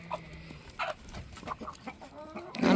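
Chickens squabble over feed with short, close-up clucks and squawks in quick irregular bursts, rising into a louder squawk at the end.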